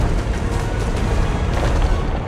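A deep, sustained explosion rumble from an underwater blast scene in the film Meg 2, dense low boom with crackling texture lasting a couple of seconds.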